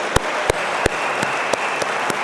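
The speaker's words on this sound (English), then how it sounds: "deserves a massive round of applause" Steady audience applause at a 2018 New Year company showcase, a dense continuous wash of clapping with a few sharper individual claps standing out at a regular pace.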